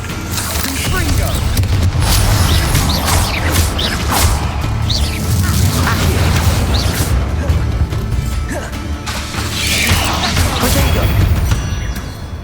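Confringo spell blasts in Hogwarts Legacy, a dense run of fiery bursts, crashes and thuds layered over continuous loud combat noise, with no clear gaps between impacts.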